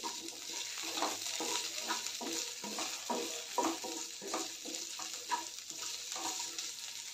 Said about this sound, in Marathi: शिमला मिरची भाजलेली आहे, आता मी एका डिशमध्ये काढून घेते।